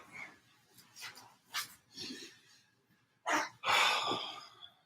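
Dogs bark, whimper and pant excitedly at a food delivery on the doorstep, a few sharp yips and then two louder bursts close to the microphone, with no talk over them.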